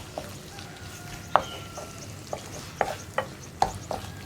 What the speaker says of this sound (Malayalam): ഇനി നന്നായിട്ടൊന്ന് ഇളക്കി മിക്സ് ചെയ്യാം